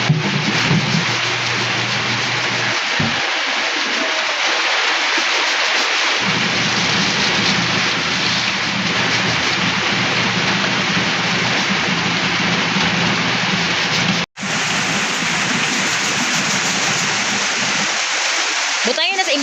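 Heavy rain pours down steadily, a loud, dense wash of hiss close by with a low rumble beneath, continuous throughout with one brief dropout near the end; a voice speaks faintly under it at times.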